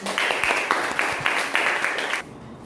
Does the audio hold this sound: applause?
yes